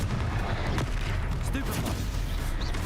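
Confringo spell cast in the video game Hogwarts Legacy, a burst of crackling, booming impacts over a dense battle din, with a voice speaking over it.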